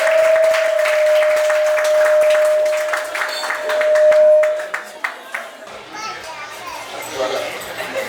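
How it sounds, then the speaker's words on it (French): Audience applause at a live comedy show fills the opening seconds as a dense, steady wash of clapping with children's voices and a held tone running through it, thinning out after about five seconds into scattered sounds and talk. "Applaudissements s'il vous plaît."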